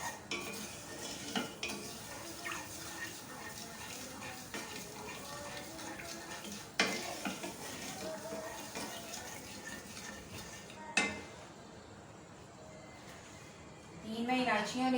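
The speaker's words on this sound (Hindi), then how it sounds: "मिक्स करते जाएं।" Sugar, water and lemon juice for jalebi syrup are stirred in a pan, a spoon scraping and clinking steadily at close range while someone talks over it.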